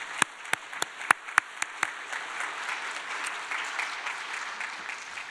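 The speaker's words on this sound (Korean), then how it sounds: "우리 하나님께 영광의 박수 한번 쳐 드려야 될 것 같아요" Scattered, distinct claps from a church congregation open the moment, several sharp hand strikes at first, then settling into a soft, steady patter of applause that carries on at a moderate distance with no voices over it.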